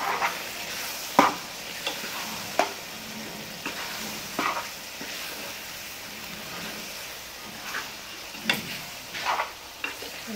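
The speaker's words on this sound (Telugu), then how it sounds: "ఇది మంచిగా కలుపుకొని ఇప్పుడు ఇందులో మనము సన్నగా తరిగి పెట్టుకున్న దోసకాయలు కూడా వేసుకున్నాము." Steady sizzling of mutton curry with thinly sliced cucumbers frying in a pan, with scattered scraping taps of a spoon stirring through it at close range.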